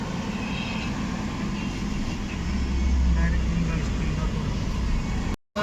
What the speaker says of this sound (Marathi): खूपच ट्रॅफिक आहे